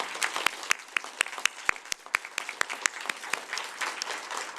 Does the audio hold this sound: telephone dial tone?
no